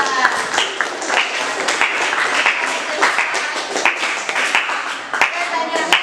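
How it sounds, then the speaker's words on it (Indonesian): A classroom audience claps for a presenting student group, a dense, steady patter of many hands lasting several seconds with scattered voices mixed in. "Tepuk tangan untuk kelompok 2."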